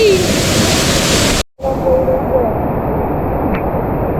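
A constant loud roar of rushing, falling water from a waterfall swollen by heavy rain, heard from underneath the falls, briefly cutting out for a moment before the steady roar resumes.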